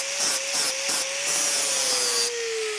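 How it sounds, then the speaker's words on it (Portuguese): A power sander whirs steadily with a sustained tone as it finishes a horseshoe, its pitch surging in short pulses early on before holding an even grind. "Vou dar um acabamento na lixadeira agora."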